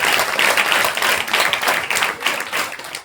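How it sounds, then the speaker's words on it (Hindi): Audience at a school prize ceremony in a public inter college claps steadily for about three seconds, a dense crowd of hands with no voices over it. "सभी एक बार फिर ताली बजाएं"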